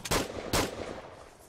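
Two sharp video game gunshots fire close together, each a loud burst with a short decaying tail, followed by a low rumbling ambience in a horror survival game.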